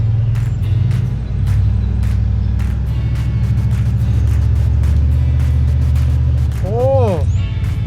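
A 2006 Chevrolet Monte Carlo SS that had sat for years revs as it pulls out, its engine a loud, rising drone with a sweeping pitch near the end. Someone talks over it throughout.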